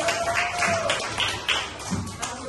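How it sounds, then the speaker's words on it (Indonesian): Scattered claps and taps from a primary school class 5D in a classroom, brief irregular bursts at moderate distance with a faint tone and room noise, no talking. "tepuk tangan untuk kelas 5D"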